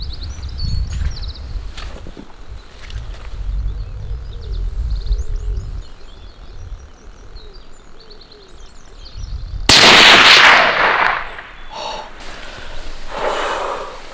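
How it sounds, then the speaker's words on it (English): A rifle fires a single sharp, loud shot outdoors while deer stalking on the Isle of Bute, breaking into quieter rustling and birdsong and followed by a lingering rumble and faint movement. "How do you feel shooting a gun for the first time?"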